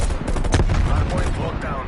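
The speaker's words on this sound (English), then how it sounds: "Artillery targeting detected." Heavy gunfire and artillery blasts rumble continuously in a video game battle, dense and loud with overlapping booms, while an automated voice speaks over the barrage.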